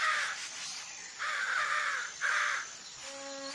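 Crows caw three times in a row, each call harsh and drawn out, heard moderately near against a quiet background.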